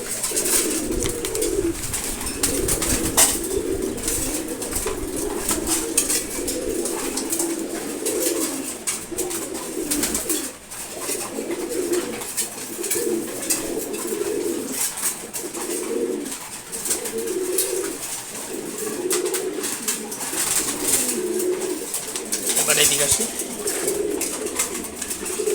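Pigeons kept in a loft, here a group of hens, coo in soft rolling phrases that repeat over and over. Someone speaks briefly in the background.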